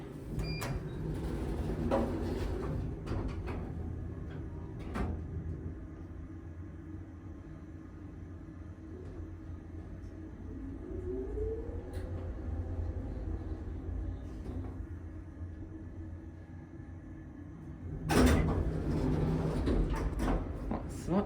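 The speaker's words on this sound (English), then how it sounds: "Still the original door operator." An old traction lift with its original door operator at 117 Queen Street, Brisbane: low mechanical rumble of the car travelling, a rising whine mid-way, and clunking door movements at the start and end, with people talking softly.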